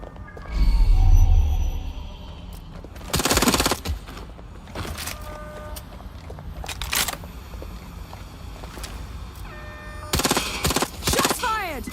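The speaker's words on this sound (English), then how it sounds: "Shots fired!" Gunfire in the video game Watch Dogs Legion comes in several loud, close bursts of rapid shots, separated by quieter stretches of game ambience and electronic tones, with a low rumble near the start.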